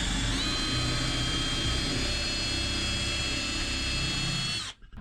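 A power drill bores holes while a teardrop camper is being built, running as a loud, steady whine with a constant motor pitch for nearly five seconds before it cuts off abruptly at the end.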